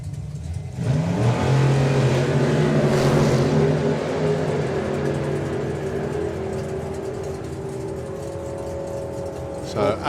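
Nostalgia drag race cars, a 500 cubic inch big block and a 604 cubic inch Hemi, roar loudly as engines rev and pull away, the sound sustained and slowly fading into distant rumble with a brief burst near the end.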